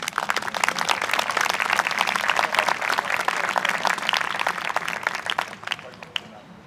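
Audience applause rises at a summer bicentennial band concert, a dense steady patter of many hands clapping that thins toward the end, with a brief voice near the close.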